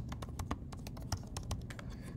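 Someone typing on a computer keyboard, a steady patter of light, close key clicks at an even pace over a low background hum, with no speech.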